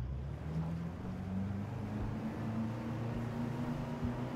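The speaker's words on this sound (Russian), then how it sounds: "О, неплохой катер, скажу я вам." Motorboat engine droning steadily in Just Cause 3 with water and wind rushing around the hull, a continuous mid-level hum throughout with no voices.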